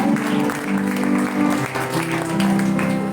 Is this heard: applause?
yes